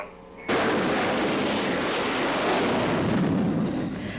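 Army ATACMS tactical missile launching in a test firing, a sudden loud roaring blast that holds as a sustained broadband rumble, heard from a distance with no talk.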